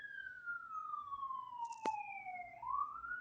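A single faint siren tone sweeping slowly downward, then rising again, with a brief sharp click partway through, distant and quiet over low background noise.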